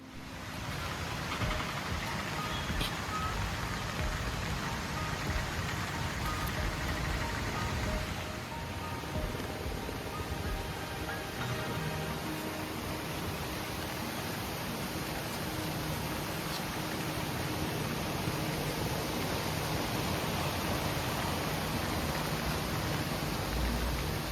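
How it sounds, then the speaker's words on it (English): Steady, dense monsoon-like rain pouring down at Kundala Lake in Munnar, Kerala, a continuous hiss of drops on surfaces with a faint low rumble underneath, no voices. "it's raining like monsoon"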